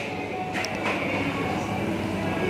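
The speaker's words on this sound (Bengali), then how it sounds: "আমি আছি এখন ট্রেনে।" A steady rumble and whine fills the cabin while riding the Bangkok airport rail link train, with faint background chatter under the constant hum.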